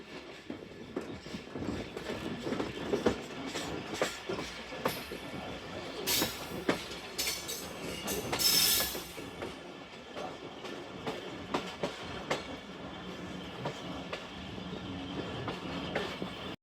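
Shalimar Express passenger train running along the rails past a loop line, a steady rumble with rhythmic wheel clatter and occasional bright metallic squeals, sustained and fairly close with no talk.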